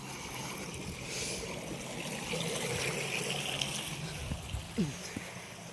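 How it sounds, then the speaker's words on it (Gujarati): Irrigation water rushes and gushes steadily close by into a castor field, a broad continuous flow with a few brief splashy bursts near the end. "ચાલો જો ડાયરેક્ટ પાણી આવે છે અહીંયાથી"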